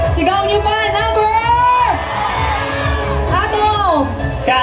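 A pageant crowd shouts and cheers loudly for candidates, with a host's amplified voice talking over the noise and rising whoops cutting through.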